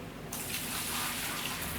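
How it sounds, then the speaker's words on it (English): In the Gold Mining Simulator video game, water suddenly gushes and splashes after a quiet start, a loud continuous rush with no talking. "Oh dear, we just got water there."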